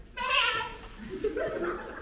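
A single sheep bleat rings out close and loud on a stage during an amateur theatre comedy, one wavering cry about a second long, followed by a low voice murmuring.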